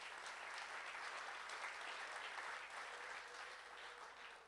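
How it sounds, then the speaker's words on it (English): Sustained audience applause for volunteers at a Friends of Casco Bay gathering, a steady wash of many hands clapping that holds evenly throughout and eases slightly near the end, with no talking over it. "Let's give these people a round of applause"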